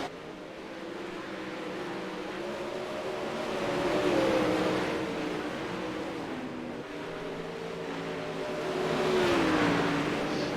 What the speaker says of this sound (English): starting to get in some heavy traffic, starting to pass cars now